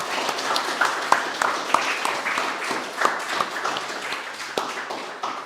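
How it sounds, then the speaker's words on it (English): Audience at a demo day event in Lille applauding the presenters, a dense, steady patter of clapping from a mid-sized crowd, with no talk over it. "je pense qu'on peut les applaudir une nouvelle fois"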